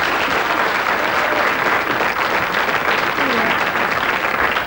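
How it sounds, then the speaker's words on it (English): A studio audience gives loud, dense, continuous applause throughout, close and even, with a faint whistle-like tone briefly audible within it. "Give it a round of applause."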